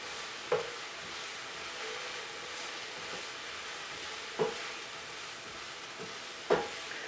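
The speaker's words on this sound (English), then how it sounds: "I'll simmer the onions, sweat the onions until for a minute or two" Onions sweat in a pan for an Italian rotolo with marinara sauce, giving a faint, even sizzle. Three soft knocks of a spoon or pan break it at intervals, and the sound is quiet and close with no talk.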